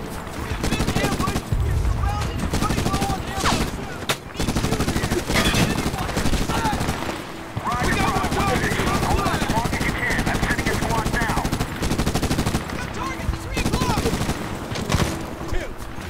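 Dense, continuous gunfire from a Medal of Honor (2010) firefight, rapid automatic bursts layered over each other for the whole stretch, loud and close with no gaps.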